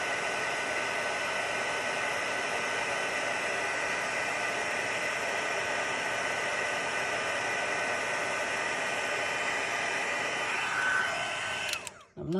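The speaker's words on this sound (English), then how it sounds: "The heat tool is nice and heated up, so it won't take very long." A heat tool blows a steady, loud, breathy whoosh with a faint whine as it melts embossing powder on a stamped card, running unbroken until it cuts off abruptly at the end.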